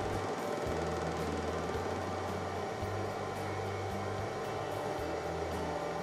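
An electric motor carrying a half-inch-thick steel plate coasts down toward a stop, giving a steady mechanical hum with low tonal bands that shift and change pitch, close and continuous.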